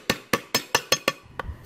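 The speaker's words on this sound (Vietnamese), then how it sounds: "Lấy hành lá đập dập đoạn gốc." Six sharp, evenly spaced thwacks as scallion stalks are smashed hard against a cutting board, followed by a lighter knock, close and crisp.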